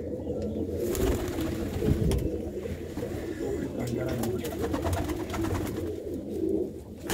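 Sandhuri-breed pigeons keep up a dense, low cooing chorus at close range, with a few faint sharper sounds and some background voices mixed in.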